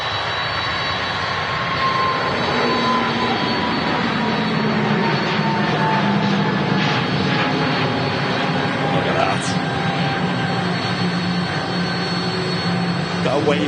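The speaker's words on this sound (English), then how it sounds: "Just about to depart, heading back for Istanbul, is the Pegasus Airbus A380 Neo" A Pegasus Airbus jet departing Manchester Airport for Istanbul gives a steady, loud engine roar that holds throughout, with a faint tonal whine riding above it.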